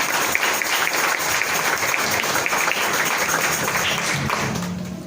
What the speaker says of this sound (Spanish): hay que darle fuerte ese aplauso al Señor esta mañana